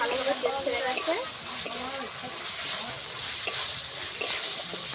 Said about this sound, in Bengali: দিয়ে ভালো করে আমি একটু কষিয়ে নেব।